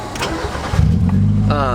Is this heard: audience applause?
no